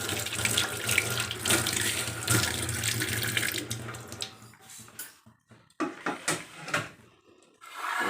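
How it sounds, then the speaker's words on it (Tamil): Hands are washed under a running tap at a sink, a steady close splash of water with rubbing, then the flow stops and wet hands make a few scattered drips and rubbing sounds. "இப்போ நம்ம கையை வாஷ் பண்ணிவிட்டு"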